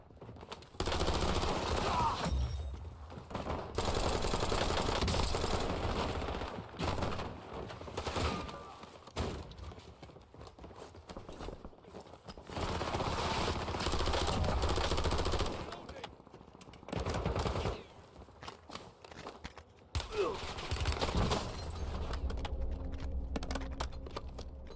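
Bursts of rapid automatic gunfire and single shots from a Warzone battle royale match, loud and dense in several long stretches separated by brief lulls, with keyboard clatter and a voice speaking now and then.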